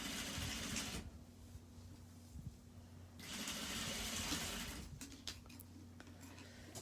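A sewing machine running in two bursts of steady mechanical whirring stitching, separated by a quieter pause, followed by a few short clicks, close and moderately quiet, no talk.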